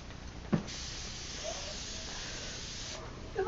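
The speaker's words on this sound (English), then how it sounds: "Before you go into my room, I have to spray it." A steady aerosol spray hisses continuously for several seconds, close by, with a faint knock near the start.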